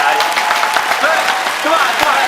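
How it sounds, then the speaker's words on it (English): Audience clapping for a university professor guest on a talk show, a dense, loud wash of hands from a close crowd, continuous for the brief moment with faint voices mixed in. "Why don't you all clap for the man, guys?"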